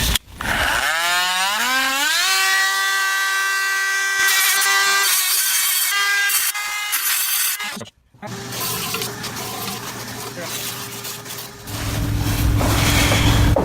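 A Dremel spins up with a rising whine, then a sanding stone grinds against metal exhaust muffler cans, a loud steady buzz with a brief cut-out and changing scraping tone near the end.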